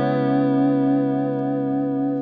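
Guitar chords strummed through stereo modulation pedals ring out as one sustained, shimmering chord with chorus-like wavering, held evenly and loud with no voices.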